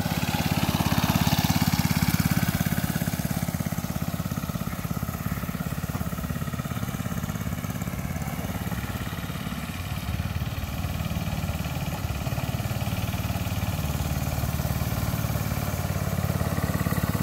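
A restored vintage go-kart engine runs steadily at close range, a continuous buzzy motor drone that holds an even pace throughout with a slight dip near the middle and no talking.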